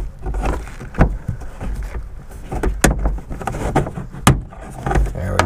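A pry tool works a rear brake light loose on a 2003 Mazda Protege. Several sharp, close clicks and pops stand out over low scraping and handling noise, with no talking.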